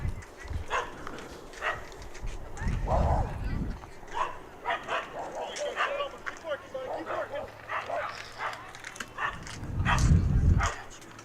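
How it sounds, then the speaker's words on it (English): A neighborhood dog barks repeatedly at night near an American Legion baseball game, its short yips and bow-wows coming in scattered bursts at moderate distance while a commentator talks and ballpark noise continues. "the barking dog at 9:30 at night"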